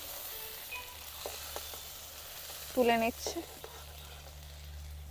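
Bhetki fish paturi sizzling in oil in a wok, a soft steady hiss running throughout, while a voice speaks briefly near the middle.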